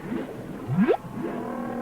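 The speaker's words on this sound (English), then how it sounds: "They're the song of the humpback whale, recorded in the clear blue waters of Hawaii." A humpback whale sings underwater in the clear waters off Hawaii, a loud rising moan that sweeps upward over a murky, watery background hum.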